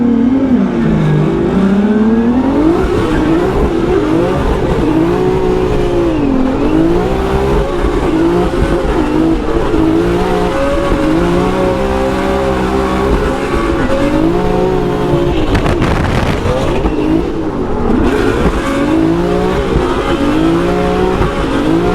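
A BMW E36 drift car with a 2JZ engine chasing at Irwindale, its engine revving hard and continuously with rising and falling pitch, loud and close from inside the car, with a brief burst of tire noise and no talk.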